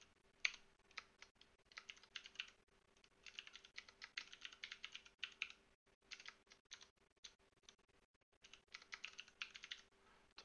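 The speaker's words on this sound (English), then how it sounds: "So here I'm going to type in my name." Rapid keystrokes on a computer keyboard as a name is typed, coming in quick bursts of clicks with short pauses between them, close and fairly quiet with no voices.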